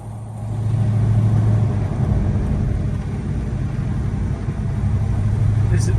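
A 1969 Chevelle SS driving over a rough road, its engine a steady low rumble with constant road and wind noise throughout.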